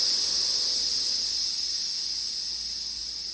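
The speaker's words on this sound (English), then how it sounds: "I can switch it to the steam setting, which you would use to steam milk or something like that" Steam hisses out of an espresso-style coffee maker switched to its steam setting, a continuous high, airy jet held close and slowly fading slightly, with no talk over it.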